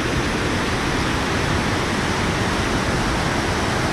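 Water pouring down from above in an Artvin valley makes a loud, steady, unbroken rush that fills the whole space, with no voices.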